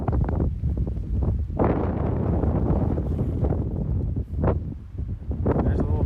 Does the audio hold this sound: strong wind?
yes